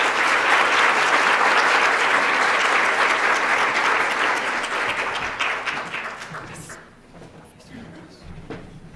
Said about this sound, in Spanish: Recibamos entonces con un fuerte aplauso al profesor Antanas Mocus.